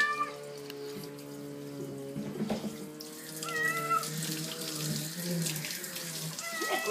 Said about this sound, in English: I kind of got to shower you underneath, though, Tea.